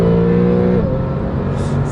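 Porsche 911 Carrera (991 Mk2) turbocharged engine droning steadily at speed, a loud, close, sustained hum whose pitch dips slightly partway through, with no talking.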